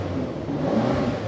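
BMW M8 Competition V8 running right after being fired up, a steady close rumbling idle with a slight rising rev, heard alone for a brief moment.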